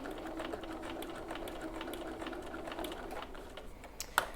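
A sewing machine reverse stitching back over a bag seam, an even, moderately quiet mechanical whir running continuously at close range.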